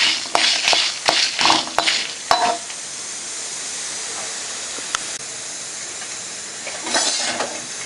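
Spices dry-roasting in a pan for puliyotharai mix, with sharp scraping stirs and clinks over a soft continuous sizzle and hiss, close up, pausing midway before stirring resumes.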